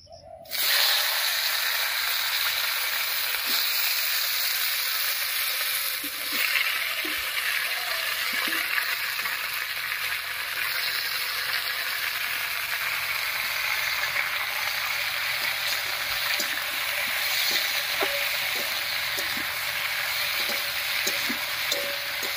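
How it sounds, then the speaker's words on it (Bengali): Steady, close sizzling of ash gourd frying in hot oil with spices, a dense continuous hiss with occasional faint stirring clicks. "ফোড়নটা ভাজা হয়ে গেছে, এবারে চাল কুমড়োটা দেবো"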